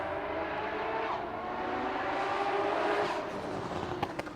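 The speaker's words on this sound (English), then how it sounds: "That's a big turbo on there. You can hear it." A turbocharged race car engine at a roll race roars steadily at a distance, a broad mechanical drone that swells slightly, ending with a few sharp clicks.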